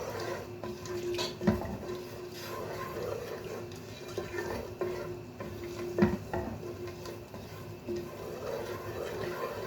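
Whole star anise, cinnamon, cloves and black pepper fry lightly in a pan, a soft sizzle punctuated by two distinct clanks of a utensil against the pot; no talk.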